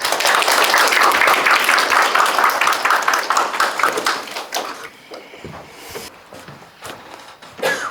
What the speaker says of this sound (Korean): 뮤라당 평생교육원 김영숙 원장님을 박수로 맞이하여 주시기 바랍니다